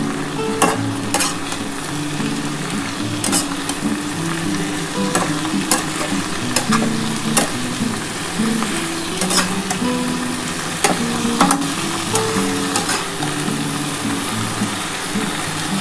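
Fourteen leafy greens with a spoonful of sugar frying in a pan, a continuous sizzle under repeated scraping strokes of a spatula stirring at an irregular, unhurried rhythm, close up with no talk.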